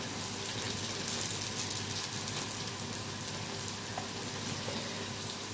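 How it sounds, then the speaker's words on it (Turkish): Onions sizzle and crackle steadily as they fry in a pan, close up and continuous, with no talking over the cooking. "Şöyle soğancuları kızartıyorum artık."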